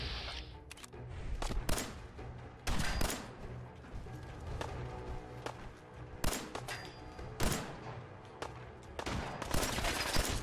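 Gunshots and bursts of gunfire crack through a firefight in the video game Fallout 4, loud, repeated shots at irregular intervals over a busy, continuous battle background.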